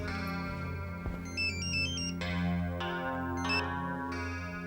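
A phone rings with an electronic ringtone, a repeating pattern of bright beeping notes over a low steady hum, fairly quiet and without speech.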